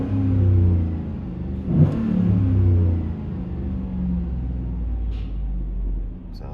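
A 2007 Chevy Tahoe 5.3-litre V8 with a Flowmaster 40 Series muffler idles with a deep burbling exhaust, then revs sharply once and settles back into a steady low rumble.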